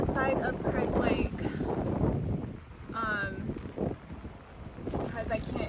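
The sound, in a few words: wind on Craig Lake while canoeing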